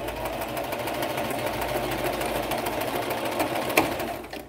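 A sewing machine stitching a crinoline hem, running steadily at close range with a fast, even mechanical rattle throughout and a brief clack near the end.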